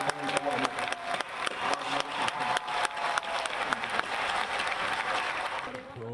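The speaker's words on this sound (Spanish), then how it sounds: "vivas y aplausos." Engineers in Mars mission control cheer and applaud, a dense, continuous wash of clapping with crowd noise and voices underneath, steady throughout.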